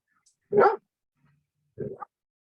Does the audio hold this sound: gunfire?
no